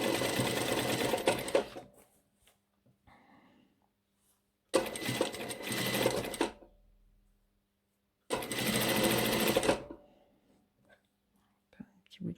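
A sewing machine stitches the first seam of a nightgown in three loud, fast bursts of rapid needle clatter, separated by quiet pauses with faint handling sounds.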